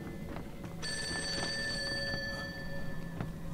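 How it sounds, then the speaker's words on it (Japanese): A telephone rings in the horror video game Fatal Frame: Maiden of Black Water, a bright electronic tone that sounds clearly over a quiet, eerie background and holds for a couple of seconds before cutting off, with no voices. "電話かかってきた。"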